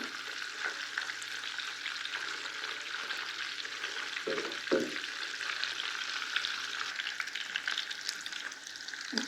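Quiet, continuous sizzle of chicken frying in a pan, with a couple of low knocks from stirring midway.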